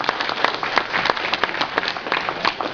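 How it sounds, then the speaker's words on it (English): A convention audience claps for volunteers, a steady patter of moderate applause running throughout without pause. "Give a round of applause to both of our lovely volunteers."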